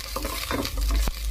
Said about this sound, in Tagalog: Gigisa muna natin sa bawang sibuyas.